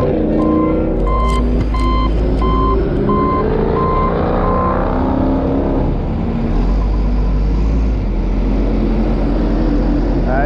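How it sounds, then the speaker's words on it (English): A fire department loader works at a freeway truck fire, its backup alarm beeping steadily over a heavy diesel engine that rumbles and revs, with a lower-pitched vehicle drone throughout. "Fire department's using their loader."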